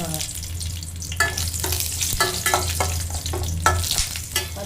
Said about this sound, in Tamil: அடிச்சு இந்த பட்டை, ஏலக்காய், கிராம்பு இதெல்லாம் இதில் போட்டுடலாங்க.